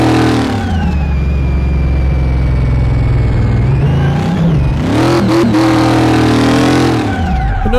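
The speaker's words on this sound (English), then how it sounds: "Oh, the engine's so loose." A 1932 Ford hot rod engine in the video game Car Mechanic Simulator 2018 revs loudly and close, holding a high drone, then swelling through sharp throttle blips and dropping back, with no talking.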